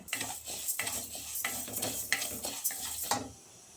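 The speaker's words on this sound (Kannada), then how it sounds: "ಈಗ ಉದ್ದಿನ ಕಾಳು ಫ್ರೈ ಮಾಡಬೇಕು ಈ ಥರ ಕೆಂಪು ಬಣ್ಣ ಬರಬೇಕು" Urad dal dry-roasting in a small pan while a spoon or spatula stirs and scrapes it in repeated, steady strokes, with a light sizzle, close up and without talk.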